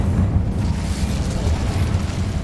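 A fire spell is cast in Hogwarts Legacy, producing a sustained, loud low rumbling whoosh of flame that carries steadily throughout with no pause.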